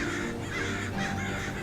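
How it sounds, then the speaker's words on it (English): Several crows caw in harsh, overlapping calls, fairly loud and close, repeating throughout the short stretch against a dense background. "A murder of crows."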